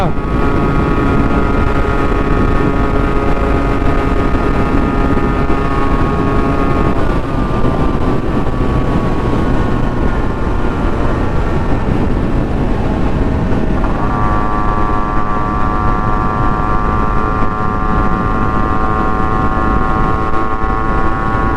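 A Yamaha RXZ two-stroke motorcycle with an open exhaust accelerates through its gears, a loud, close, raspy engine whine climbing in pitch with shift drops, steady and continuous under wind buffeting.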